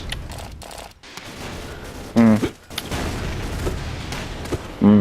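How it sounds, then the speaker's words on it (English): Gunfire in the blocky shooter game Ace of Spades, with a burst of rapid shots and two louder, sharper blasts, likely shotgun fire, over steady in-game background noise. "Shotgun is one shot, I can hear them."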